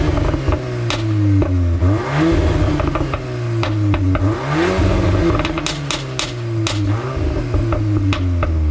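A VW Mk8 Golf R engine with stock exhaust revs repeatedly, pitch rising and falling with each blip, loud and close, with clattering ticks scattered throughout.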